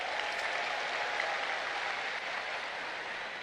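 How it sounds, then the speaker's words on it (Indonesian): A crowd at a party anniversary political rally claps for guests in a continuous, even wash of applause, fairly distant and steady throughout with no talking. "boleh beri tepuk tangan kepada mereka"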